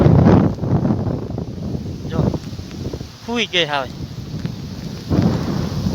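A windstorm with rain buffets the microphone in loud, rumbling gusts that ease off in the middle and surge again toward the end, with a brief voice speaking in the lull.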